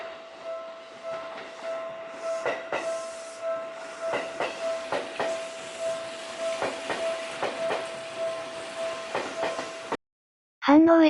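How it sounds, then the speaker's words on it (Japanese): An electric train rolls into Hanno Station, Saitama, with rhythmic clickety-clack over rail joints and a steady mechanical hum, followed by a brief cut to another sound at the end. "西武秩父駅方面からの電車が、飯能駅に入ってくるところの映像も撮影しておきました。"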